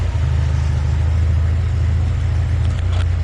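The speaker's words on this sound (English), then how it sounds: "Okay, the exhaust is in. Let's see how she starts and see how she sounds." A Datsun 510 engine with a new exhaust rumbles steadily and loudly close by, a deep throaty exhaust drone with slight fluctuations, no voices.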